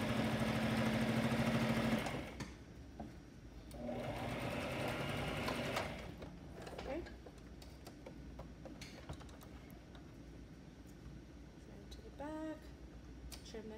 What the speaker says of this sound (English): I wanted to show you guys how to do it on the regular sewing machine